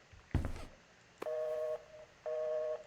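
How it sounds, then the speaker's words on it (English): A telephone left off the hook sounds its busy tone, two separate steady beeps after a short thump, faint and with no voices. "Is that phone off the hook?"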